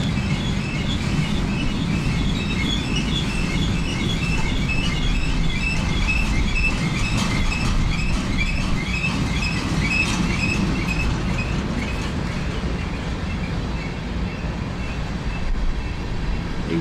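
Heavy-duty CSX freight cars roll past close by, a steady rumble of wheels with rhythmic clicking over rail joints and high squealing from the wheels, the train slowing as it goes.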